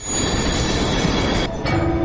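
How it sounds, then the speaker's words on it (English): A subway train rumbles through a New York station in a movie, a steady loud roar of rolling wheels with a brief dip near the end before a high squeal rises. "Except there's nobody here in the subway."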